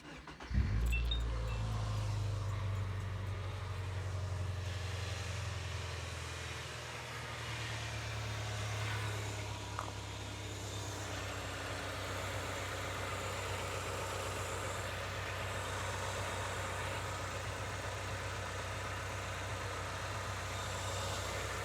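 A Subaru Impreza GC8 idling after a head gasket repair, a steady low engine rumble that holds evenly throughout after a brief startup surge, with no talk.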